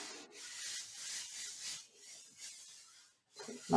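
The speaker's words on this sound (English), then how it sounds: "Burnish it with my hands." Hands rubbing a paper piece flat onto a 12x12 wedding album page, a soft close dry swishing that runs in steady strokes, pauses briefly near the end, then ends on a louder bump.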